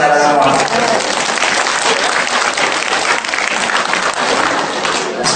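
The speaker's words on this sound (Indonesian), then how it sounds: "Tepuk tangan buat saudara semua." A crowd at a religious lecture breaks into loud, sustained applause that holds steady throughout, with voices faintly mixed into the clapping.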